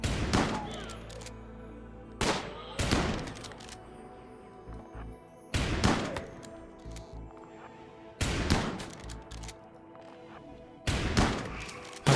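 Bursts of gunfire from colonists fighting in the RimWorld video game, sharp volleys coming in about five distinct clusters every few seconds, loud and close, with quieter gaps between them.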